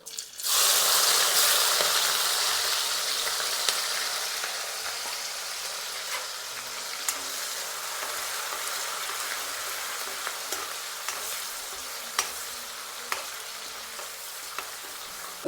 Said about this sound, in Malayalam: ഇഞ്ചി വെളുത്തുള്ളി പച്ചമുളക് ഇത് നമുക്ക് ചേർത്ത് കൊടുക്കാം